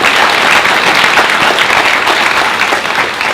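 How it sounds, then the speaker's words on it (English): Loud, sustained applause from an audience at a community meeting in Wichita, Kansas, a dense wash of many hands clapping steadily throughout with no talk. "You can clap."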